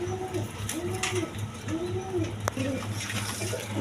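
Female high-flying Giribaz pigeons coo in a repeated series of rolling calls, close by, over a steady low hum and background noise, with no talking.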